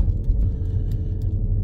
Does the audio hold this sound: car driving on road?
yes